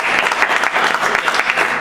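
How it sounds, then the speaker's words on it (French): Loud applause from a church congregation, a brisk, dense burst of many hands clapping close by, continuous for the whole short stretch. "Vous pouvez tout de suite applaudir pour l'autre nouvelle."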